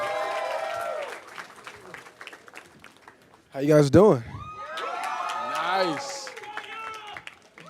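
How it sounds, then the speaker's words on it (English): Enthusiastic crowd applauding and cheering as the Fantastic Four cast members come on stage, with whoops and claps under steady talk, a loud burst of cheering in the middle, then a voice speaking over it. "It's a slightly enthusiastic crowd."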